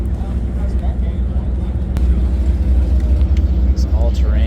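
A Porsche all-terrain off-road racing vehicle rumbles steadily at a street festival, its low engine drone continuous and fairly loud under crowd noise and voices.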